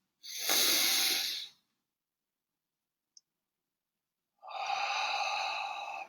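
Slow breathing during Tonglen meditation: a long airy inhale, a silent pause with one tiny click, then another long steady breath, close and soft with no talk.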